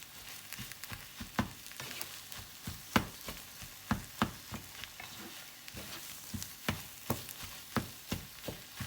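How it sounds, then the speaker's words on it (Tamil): Metal spatula chopping and stirring dosa with beaten egg on a hot pan for kothu dosai, sharp irregular clanks repeating over a soft sizzle, close up with no talking. "ஜஸ்ட் இப்படி கொத்தி விடுங்க."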